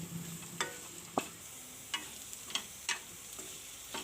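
Chana dal and soya chunk masala cooks in a pan, giving a soft steady sizzle with scattered light pops and stirring clicks, close and alone.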